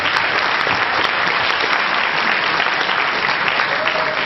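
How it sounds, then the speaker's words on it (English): An audience at a debate event gives a big round of applause, loud, dense and continuous clapping that holds steady throughout with no pauses. "Let's give them a big hand."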